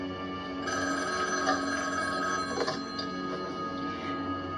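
A telephone bell rings steadily and continuously in an indoor drama scene, a clear, sustained ring with no voices over it.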